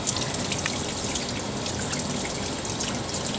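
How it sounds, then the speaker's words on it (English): Tap water runs steadily from a faucet to rinse out a SKINZIT device, a continuous close hiss and splash with a faint trickle and no pauses. "turn your water on, and then"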